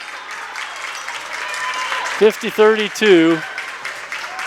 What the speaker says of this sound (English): The Eaton fans kind of applauding this.